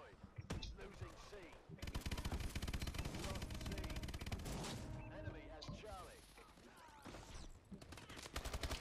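Sustained automatic fire from a remote turret in Call of Duty: Advanced Warfare multiplayer, dense rapid bursts running for several seconds with brief lulls, loud and close amid other battle noise.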